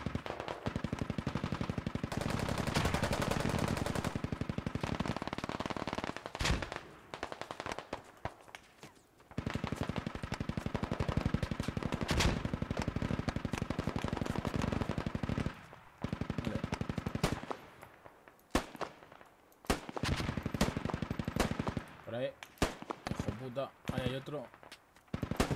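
Gunfire in the tactical shooter Squad, rapid automatic bursts rattling in long stretches with brief pauses and some sharp single shots, close and loud, with a player speaking at times.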